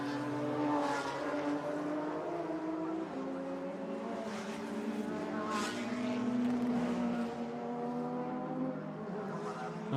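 Race cars on a street circuit during a qualifying session, engines droning loudly with rising and falling pitch as several cars pass close by in succession.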